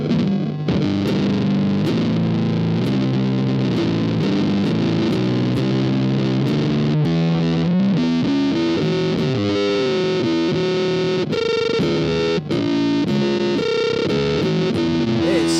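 Electric guitar run through a Death By Audio ROBOT pedal on its fuzz setting, loud and heavily distorted, with sustained chords and glitchy, warbling pitch-shifted notes playing continuously alone.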